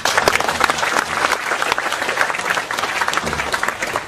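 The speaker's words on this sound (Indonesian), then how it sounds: "Sekali lagi tepuk tangan Mas." An audience at an evening gathering in Indonesia claps loudly, a dense, steady round of applause throughout with faint crowd murmur.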